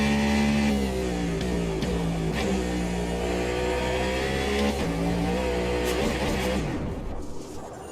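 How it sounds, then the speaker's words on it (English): Race car in the Automobilista 2 racing game: a loud, continuous engine whine with rising and falling revs through gear changes, then the engine note drops away near the end as the hybrid system regenerates. "with the engine going out, you can hear the hybrid system regenning"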